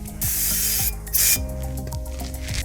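Brake cleaner sprayed onto a Chevrolet Silverado rear differential cover as it is wiped clean, giving a close hiss with a brief louder blast, mixed with rubbing and clinking noises.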